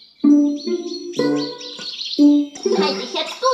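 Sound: bird chirping in cartoon forest

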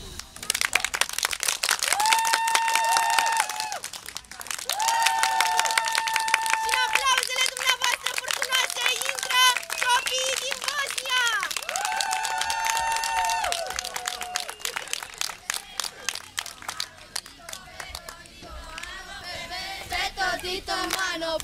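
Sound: audience applause

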